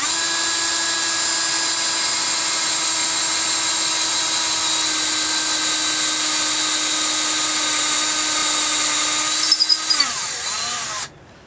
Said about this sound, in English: the drill was in slow speed for a reason, because I forgot to put it on high speed